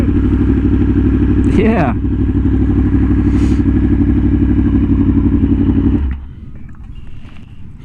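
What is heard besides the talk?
Harley-Davidson Sportster motorcycle riding past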